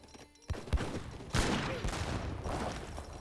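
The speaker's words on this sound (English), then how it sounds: "Heavy cannon does get a good hit there on the villagers." Heavy cannon fire in the Age of Empires 3 video game, several booming shots hitting villagers in quick succession amid a skirmish of musket gunfire, fairly quiet overall.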